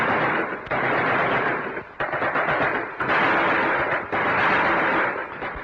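Gunfire from auxiliary police during the 1952 battle at Ismailia, Egypt, heard as loud, dense bursts of shooting that come in several surges of roughly a second each, with an old, boomy, rough recording quality.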